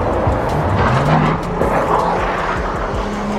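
A clean, garage-kept old-school car's engine runs close and loud, a continuous deep rumble with a steady throb and slight shifts in pitch throughout.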